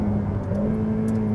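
Ferrari F8 Tributo engine under way, a steady loud droning rumble with slight pitch shifts as the throttle is blipped on downshifts, heard close up with no talk.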